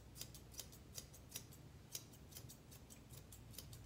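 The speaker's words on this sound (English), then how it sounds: "I'm going to trim off the beard." Grooming scissors snip through a West Highland White Terrier's beard hair in a steady run of crisp, close cuts, about two or three per second, with a low hum underneath.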